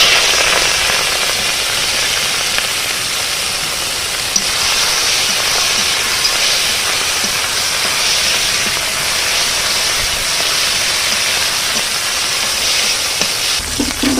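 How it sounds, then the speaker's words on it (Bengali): Prawns fry in a pan with a steady, loud, dense sizzle that hisses evenly throughout and stays close, with no talking over it. "এবার আমি চিংড়ি মাছটা ভেজে নেই।"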